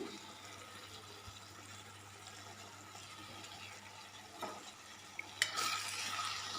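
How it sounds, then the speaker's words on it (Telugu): Washed moong dal tipped into a cooking ridge gourd curry and stirred, giving soft scraping and wet stirring that ends in a louder splash and sizzle as the dal lands in the pan. "ఇప్పుడు కడిగి పెట్టుకున్న పెసరపప్పు కూడా ఇందులోకి వేసుకుందాం"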